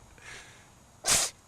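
A single sharp animal sneeze lands near the end, loud and close after a soft breathy lead-in over quiet background.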